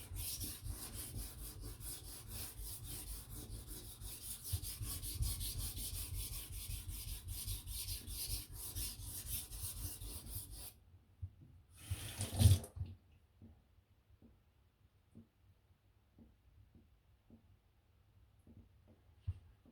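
A knife being thinned at a low edge angle rubs steadily across a sharpening stone, the rhythmic rasping strokes close and continuous for about ten seconds, then stopping, followed by a few faint scattered taps and clicks.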